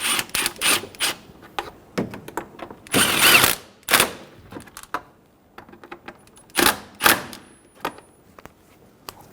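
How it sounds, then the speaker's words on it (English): Bolts being snugged down on the airbox of a 2000-2007 Ford Focus, heard as close, sharp bursts of ratcheting and tool clicks separated by short pauses. "Snug down the bolts."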